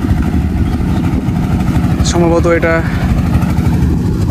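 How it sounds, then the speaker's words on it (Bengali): A motorboat engine putters steadily on a river near a char by the India–Bangladesh border, a low continuous drone running the whole time while a person speaks briefly over it. "দেখতে পাচ্ছেন, নৌকো চালিয়ে চলে আসছে।"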